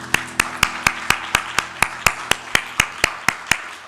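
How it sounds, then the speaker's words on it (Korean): A church congregation claps together in a steady unison rhythm at the close of a Sunday worship service, about fifteen sharp, evenly spaced claps over a few seconds, with a faint sustained organ or keyboard tone underneath. "하나님께 영광 박수 올려드리겠습니다."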